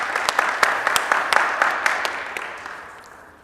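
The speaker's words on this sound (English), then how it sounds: "Let's give them a round of applause." Applause for high school students at an academic awards ceremony, scattered sharp claps over a dense wash that gradually fades out toward the end.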